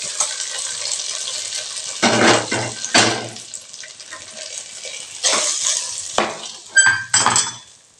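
Fried cashew tempering poured into ven pongal and mixed in, loud bursts of metal pan and spoon scraping and clanking in separate clusters, with softer sizzling and stirring between.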